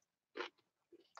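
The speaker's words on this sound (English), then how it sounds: "I hope y'all can't hear me crunching." Someone crunching a snack during a live crafting stream, giving a few short, close bites and chews separated by brief silences.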